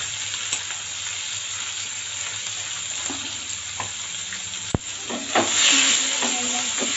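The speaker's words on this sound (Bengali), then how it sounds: "পেঁয়াজগুলো লাল লাল করে ভেজে নেব।" Two medium chopped onions sizzle steadily in hot oil in a pan, with occasional stirring clicks and scrapes under the continuous frying hiss.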